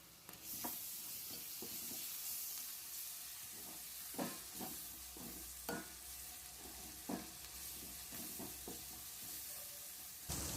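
Ginger garlic paste sizzles in hot oil with turmeric and curry leaves for a mango fish curry, a steady frying hiss broken by a series of stirring scrapes and clacks.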